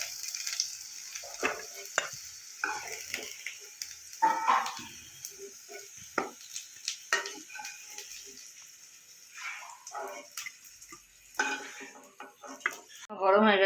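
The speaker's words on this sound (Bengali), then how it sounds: "আলুটা আমার ভাজা হয়ে গেছে, এবার আমি তুলে নেব।" Fried potatoes are lifted out of a hot pan while preparing a Bengali mixed-vegetable curry: a metal spatula scrapes and clinks against the pan in scattered close taps over a faint steady sizzle of oil, with no talking.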